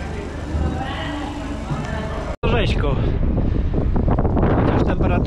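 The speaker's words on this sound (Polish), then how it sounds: "ale wieje bardzo silny wiaterek" Strong wind buffets the microphone in loud, continuous gusts at a mountain bike race in Croatia, with a brief cut partway through, and people talking over the rushing wind.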